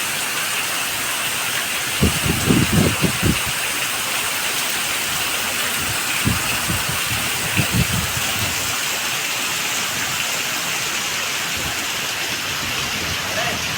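Steady heavy rain pours down in a broad, even hiss with no lulls, and a few brief low thumps and rumbles of thunder break through at intervals, one small cluster early and a couple more later, all fairly distant.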